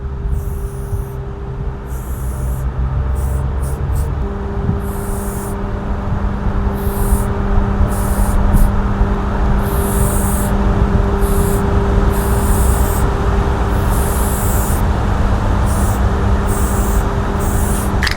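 Steady hissing spray from an aerosol can, continuous and fairly loud, with a low background hum and brief gaps in the high hiss.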